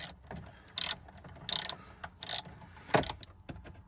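A ratchet with a long extension loosens a 7mm bolt on the instrument cluster of a 1999–2006 Chevrolet Silverado, giving several short, loud bursts of clicking spaced apart, with no talking.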